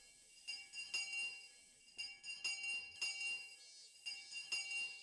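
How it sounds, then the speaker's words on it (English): A bell rings repeatedly in the visual novel Higurashi When They Cry, several clear bright strikes with lingering metallic tones in a quiet setting. "I heard the first bell ring just as I calmed down."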